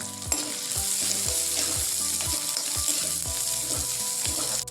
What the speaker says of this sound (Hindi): And I have added finally chopped onion into it.